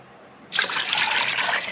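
Milk pours steadily into a pot after a brief quiet start, a continuous bright splashing stream close by.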